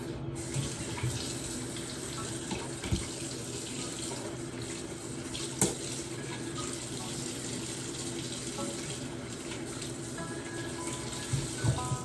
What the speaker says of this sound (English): Next, you rinse it off.